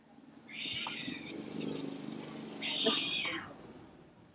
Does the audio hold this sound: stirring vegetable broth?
no